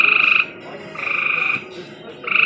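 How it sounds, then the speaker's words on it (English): Frogs croak in loud, rapid pulsing bursts at a campground, three distinct calls of about half a second each with quiet gaps between, no talk over them. "can you hear those frogs a-croaking?"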